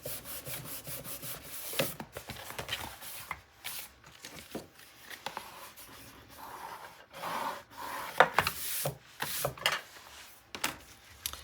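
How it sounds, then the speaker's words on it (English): Paper on a 9 x 9 scrapbook album is burnished with a tool in close, dry rubbing strokes, in irregular bursts with short pauses. "Okay, now I can burnish."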